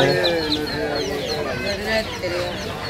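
Chickens cluck and chatter continuously at a village market where fish and vegetables are sold, a busy, close flock under lively market noise with voices around.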